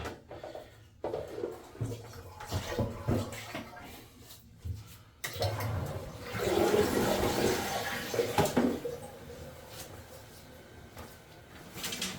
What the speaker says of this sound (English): So a little bit of water runs in and then it shuts off.